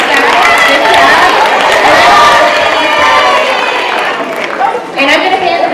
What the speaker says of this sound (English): Let's give our senior panel a round of applause as well.